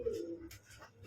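A Sirazi pigeon gives a single soft, low coo up close, brief and quiet.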